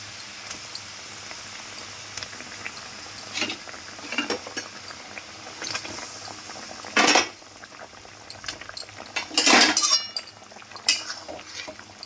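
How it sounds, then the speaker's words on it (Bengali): Fried hilsa pieces go one by one into bubbling mustard gravy: a soft simmer runs underneath while sharp utensil clinks and splashy knocks come at intervals, the loudest near the middle and later. "এবার ভেজে রাখা মাছগুলো আমি একটা একটা করে এর মধ্যে দিয়ে দেবো"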